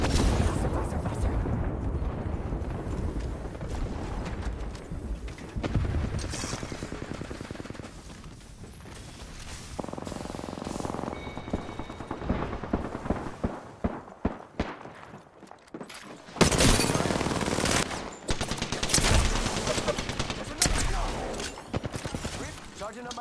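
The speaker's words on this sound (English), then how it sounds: "Getting shot." Rapid video game gunfire and explosive blasts fill a long stretch of shooter combat, near and loud, with bursts and single shots broken by brief lulls and a heavy barrage toward the end.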